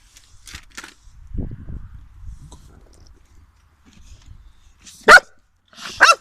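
Cane Corso dogs on a farm in the Netherlands give two loud, close barks near the end, after quieter rustling and low chewing-like sounds.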